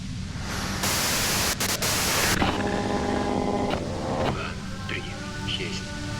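Loud, constant crackling static from the video game Disco Elysium fills everything, with faint tonal, voice-like strands drifting through the hiss.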